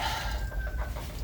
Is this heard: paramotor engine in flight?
no